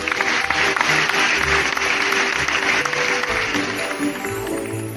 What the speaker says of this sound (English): why don't we give our farmers a round of applause?